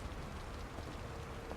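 Steady rain pours in The Evil Within, a dense, even hiss of drops on surfaces with no breaks and no voices.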